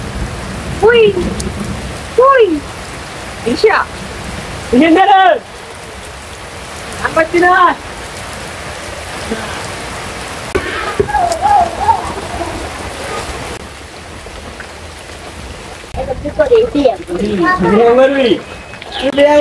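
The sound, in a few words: rain falling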